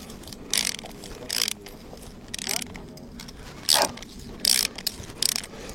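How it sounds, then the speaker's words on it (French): A ratchet wrench drives a self-drilling screw into timber planks during house framing, giving several short bursts of rapid clicking separated by pauses, close by and moderately loud over background noise. "On va fixer la vis autoforeuse avec cette fois-ci une clé à cliquer."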